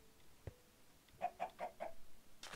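Chickens on a Minecraft chicken farm give a short series of four or five quick clucks, fairly faint against a quiet background.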